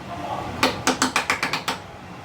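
A mechanical crank rung to signal the wheelhouse aboard a merchant marine ship, giving a close burst of about eight quick ratcheting clacks in an uneven rhythm, with no speech over it.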